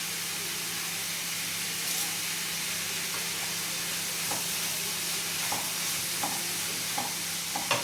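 Curry leaves are stirred into squid masala frying in a pan, giving a constant, fairly loud sizzling hiss with faint spoon clicks and scrapes scattered through it.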